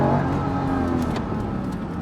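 A Honda sports car's engine and exhaust rev hard on a Japanese mountain touge road, a loud, sustained, high-revving howl heard up close with no pauses.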